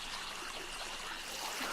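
In 7 Days to Die, river water streams past in an unbroken, close rushing hiss with light trickling detail, holding level throughout and free of speech.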